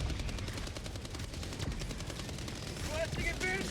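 Rapid automatic gunfire crackles through a Helldivers 2 battle, dense overlapping bursts sustained across the whole stretch, with higher electronic chirps and effects joining near the end.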